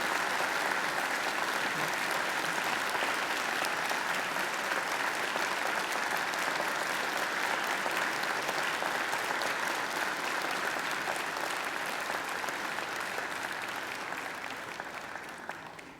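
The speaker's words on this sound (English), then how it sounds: "And now I invite you to give them a mighty round of applause." Graduates at a Macquarie University graduation ceremony give their families and friends a sustained, dense round of applause filling a large hall, steady and loud for about fifteen seconds before tapering slightly at the end.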